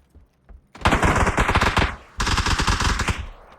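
Automatic rifle fire in the battle royale game PUBG on the Erangel map, with two long, loud, rapid bursts of shots, the first after a couple of faint pops, close by and with no talk over it.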